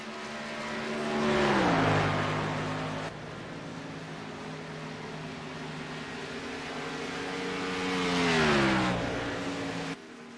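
Race cars roar past on a racing track one after another, each swelling loud and then dropping in pitch as it passes, with a steady engine drone between passes.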